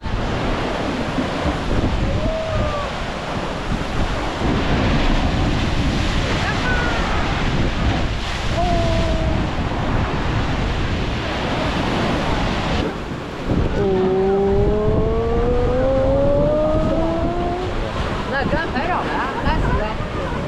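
Ocean surf roaring into Thunder Hole on the rocky Acadia National Park shoreline, a loud continuous wash of waves with heavy wind buffeting the microphone, and brief whistles or voices faintly over it.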